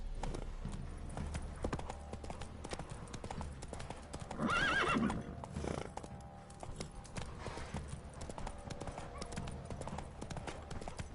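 Rhythmic hoofbeats of a galloping horse in The Witcher 3: Wild Hunt, steady and fairly close, with a brief whinny partway through over a quiet background.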